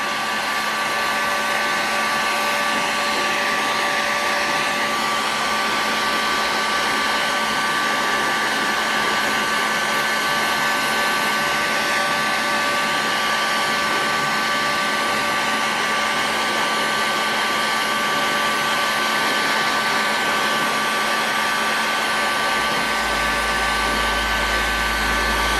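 A heat gun on its high setting blows a steady, loud, unbroken whoosh with a faint whine while heating a K&B 40 model engine, with no pauses for the whole stretch.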